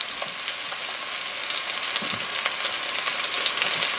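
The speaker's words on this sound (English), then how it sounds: "what I'm going to do is just constantly stir this on a medium-high heat" A pepper medley with onions fries over medium-high heat in a pan, giving a dense, constant loud sizzle with faint stirring scrapes running through it, close up and without talk.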